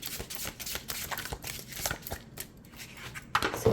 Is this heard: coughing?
no